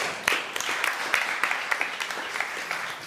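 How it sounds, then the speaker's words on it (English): An audience claps at an agricultural education forum as a guest speaker is welcomed, with dense, steady applause and sharper individual claps standing out throughout. "Well, don't clap yet."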